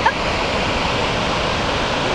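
Steady, loud broadband roar of Marokopa Falls, a waterfall in New Zealand, heard up close as continuous rushing water with no pauses.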